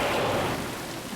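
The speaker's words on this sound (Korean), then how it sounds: "갑자기 사방이 어두워지며 무섭게 소나기가 쏟아지기 시작하는 것이었습니다" A heavy, sudden rain shower pours down in a dense, loud, continuous hiss, steady throughout with no voices.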